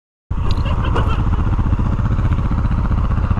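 Adventure motorcycle ridden in snow drops off a ledge, its engine roaring loud and close with steady rumble and a brief clatter at the landing.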